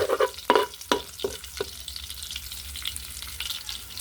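Garlic sizzles and fries in hot oil for a Filipino pakbet, with a few sharp stirring scrapes early on and then a steady, close frying hiss with no talk.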